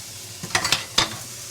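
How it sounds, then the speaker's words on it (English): A wooden spoon scrapes and stirs chicken cacciatore in a sizzling pan, with a few short, close strokes over a soft, steady sizzle. "I'm going to switch over to a wooden spoon now"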